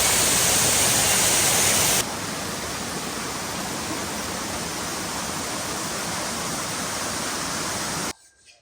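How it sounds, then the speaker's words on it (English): Waterfalls in the Catlins, New Zealand, roar as steady broadband rushing water, loud and close at first, then a little softer and more even before cutting out abruptly near the end. "So many waterfalls."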